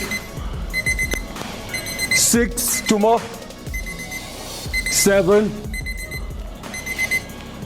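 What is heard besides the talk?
workout timer beep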